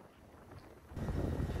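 Wind blowing hard across the microphone during an amateur road cycling race in France, a steady low rumble that swells louder halfway through and stays strong to the end, with no voices.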